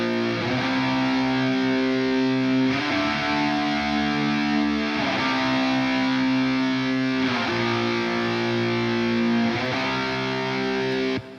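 Three distorted electric guitars play together through a compression and EQ auxiliary send, producing a loud, sustained, thick chordal wall that shifts chords every couple of seconds before stopping abruptly.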